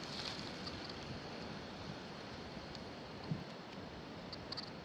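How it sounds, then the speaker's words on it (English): Steady broadband wind buffeting the microphone outdoors during metal detecting in Virginia, a continuous rushing roar with no gaps and one brief bump near the end, heard alone. "that wind is horrible"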